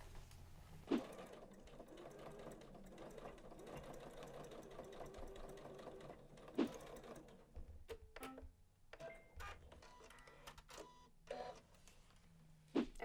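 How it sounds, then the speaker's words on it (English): A Janome sewing machine runs in steady bursts as it stitches a seam on a bag, the needle motor whirring continuously with a few sharp clicks and pauses between runs. "All right, let's get sewing."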